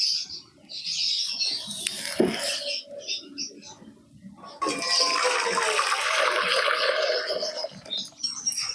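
Thin sugar syrup for rasogolla, boiled five minutes and watery as tap water, is poured out in a steady, close splashing stream lasting several seconds after a brief earlier trickle.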